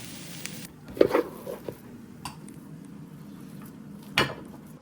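A metal spoon mashes air-fried potatoes, with mustard oil, in a bowl, making soft squishing and clinking taps in a few short bursts, quiet and close.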